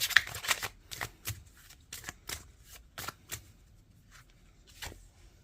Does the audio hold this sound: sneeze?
no